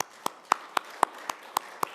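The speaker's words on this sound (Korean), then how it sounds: "우리의 기도를 받으신 주님께 영광의 박수 올려드리겠습니다." A church congregation claps along during a Wednesday worship service, producing eight sharp, evenly spaced claps in a steady rhythm, close and distinct against a quiet room.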